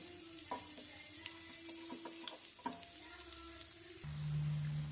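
Mustard seeds, curry leaves and onion sizzle steadily in oil in a pan, with scattered crackles and pops, a spoon stirring now and then, and a louder hiss near the end.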